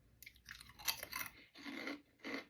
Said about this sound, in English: See, they're easy chewing.